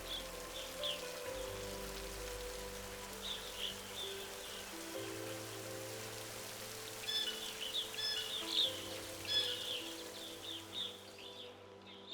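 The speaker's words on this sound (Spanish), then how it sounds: "La lluvia cae durante 8 meses al año, manteniendo vivo este ecosistema único." Steady rain falls in a Thai rainforest, a dense continuous patter of drops on leaves and surfaces with faint bird calls in the background, no talking.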